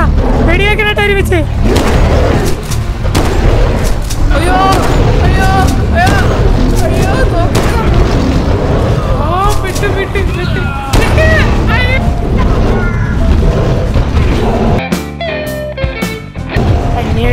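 Gunfire in a Bigfoot hunting video game, heard as scattered sharp bursts and booms under loud, excited talking, with a denser cluster of shots near the end.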